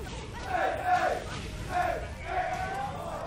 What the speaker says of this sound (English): The crowd getting... They're getting so into it.